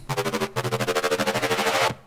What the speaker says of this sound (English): I put the rate much faster and I do a little automation on the bass here in the saturator